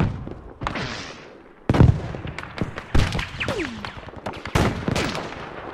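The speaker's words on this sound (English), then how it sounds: "I'm just shooting at random" Lee Enfield bolt-action rifle shots ring out in Battlefield V, several loud, sharp cracks spaced a second or so apart. Each shot leaves a ringing tail, with smaller battle noises scattered between them.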